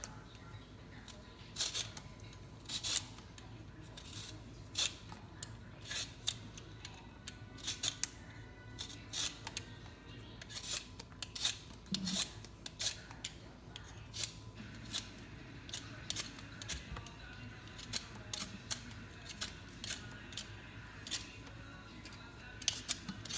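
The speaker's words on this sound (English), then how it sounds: "Peel them off in a straight line." A hand peeler scrapes skin off potatoes for mashed potatoes, making repeated quick, crisp strokes in an irregular rhythm, close and fairly soft over a quiet room.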